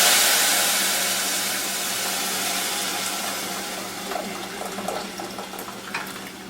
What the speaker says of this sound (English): Now we're going to go ahead and put the dal in this while it's hot.